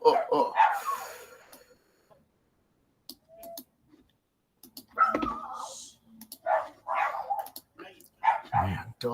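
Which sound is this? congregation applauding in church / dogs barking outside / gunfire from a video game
dogs barking outside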